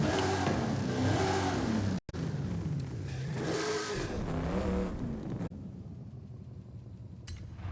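A Lincoln Continental in the racing game Forza Horizon 5 revs and accelerates hard, its engine roaring up and down through gear changes at close range, then easing back at the end.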